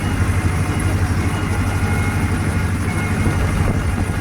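The diesel engine of a YuMZ 8280 tractor runs continuously at a steady idle, close and loud, with a low throbbing chug and no voices.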